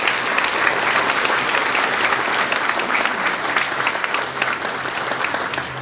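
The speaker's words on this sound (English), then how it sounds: "a round of applause for the heroes in the story" A crowd applauds at a Japantown monument dedication, producing dense, loud, sustained clapping from many hands that holds steady throughout.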